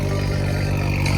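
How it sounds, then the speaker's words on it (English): A loud Subaru engine running close by at night, a dense continuous rumbling drone with a rough clattering edge that stays steady and forceful throughout. "That Subaru is loud as hell."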